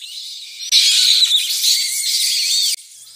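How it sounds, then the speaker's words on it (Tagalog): Bats call in a continuous stream of high, squeaky chittering that swells louder through the middle and then drops back to a softer level, with no other sounds. "Tama, ito ay tunog ng paniki."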